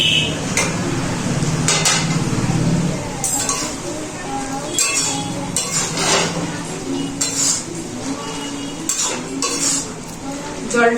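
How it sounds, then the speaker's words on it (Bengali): A cooking pot lid being lifted off pumpkin greens stems cooking, with metallic clinks and scrapes of cookware over a low bubbling sizzle, while someone talks throughout. "আবারও ঢাকাটা খুলে দেখে নেবো"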